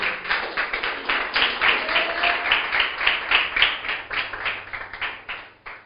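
A church congregation claps together in a steady, even rhythm, many hands close and loud for several seconds.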